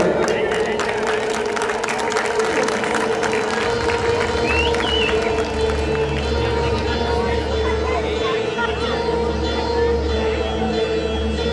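Loud, sustained applause and crowd noise at an outdoor Ramlila awards ceremony in Azadpur, dense clapping under background music and chatter.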